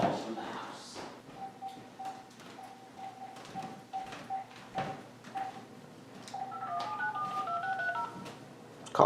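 A number is dialed on a house phone, giving a steady run of DTMF keypad tones at an even pace, followed by a quicker burst of tones, close by with faint background noise and no speech.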